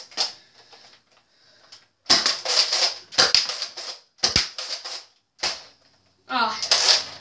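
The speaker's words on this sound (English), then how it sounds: "This is actually loaded, so I'm going to fire it off a couple times." A Nerf Slingfire lever-action toy blaster is fired several times, each shot a sharp clack and whoosh with rattling lever pumps between, close and loud, with someone talking briefly near the start and end.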